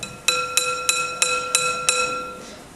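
A hammer strikes a piece of rubber frozen to very low temperature six times in a steady rhythm, each blow a sharp, bright, ringing clink that lingers briefly, close and loud with no talking.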